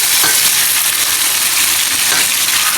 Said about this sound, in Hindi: इसको भूनेंगे इसके अंदर ही।